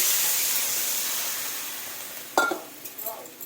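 Water added to a hot pan of frying potatoes and pointed gourd sends up a strong steamy hiss that slowly fades, followed by a few clinks of a utensil against the pan.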